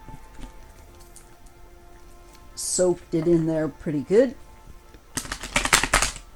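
A person speaks, then a quick burst of riffling and shuffling cards rattles close by at the end.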